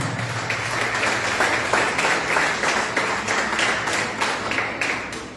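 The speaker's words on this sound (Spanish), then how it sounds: "Dale un aplauso al Señor" A church congregation gives a sustained round of applause during a sermon, a dense, steady wash of many hands clapping together at an even level, with no talk over it.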